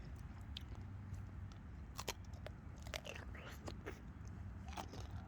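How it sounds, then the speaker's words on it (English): Strawberry toffee being bitten and chewed up close, with irregular sharp crunches and sticky mouth sounds over a faint background hum. "Let's have another bite."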